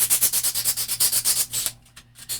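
Craft cardstock is sanded by hand in quick, regular back-and-forth strokes, close and scratchy, about a dozen rhythmic rubs before the motion stops and a quieter pause follows.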